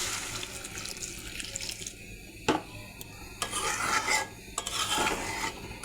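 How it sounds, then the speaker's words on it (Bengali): Hot water is poured into a cooking pot to make gravy for a kakrol and prawn curry, giving a soft, sloshing trickle with a few sharp clinks, fairly quiet and close, with no talking. "গরম জল দিয়ে দেব।"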